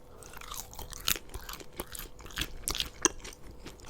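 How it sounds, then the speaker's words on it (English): Close chewing and crunching of McDonald's French fries dipped in sweet and sour sauce, with irregular soft bites and moist mastication in a quiet setting. "So I can dip my very flimsy, gross looking fries in my sweet and sour sauce."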